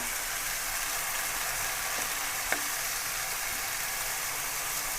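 Potato and bitter gourd frying in a pan, a steady close hiss of sizzling oil with one brief clink partway through, no voices.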